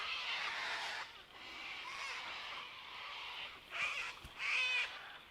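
Harsh screeching calls overlap from a noisy flock of cockatoos, rising in loud bursts toward the end over faint background noise.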